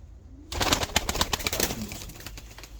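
Lahore pigeons in a shipping box burst into close, loud cooing and rustling flutters after a brief quiet start, the calls overlapping and then tapering off.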